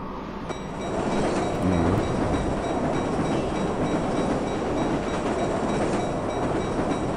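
A train in the video game Marc Ecko's Getting Up rumbles past, a dense, steady roar that swells after the first second and holds loud and close, with rattling rail clatter and no talk.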